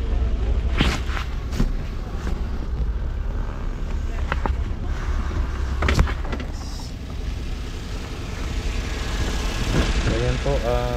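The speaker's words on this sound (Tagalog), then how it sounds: "Ayan po ang guys, kanyang makina. Tahimik po ang kanyang andar." A minivan engine idling quietly, a low steady hum under occasional clicks and knocks, with someone speaking near the end.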